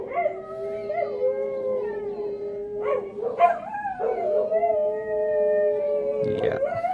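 A dog howls in long, rising and falling wails as an ice cream truck passes, loud and close, with a few yips breaking in near the end and a steady hum of background noise underneath.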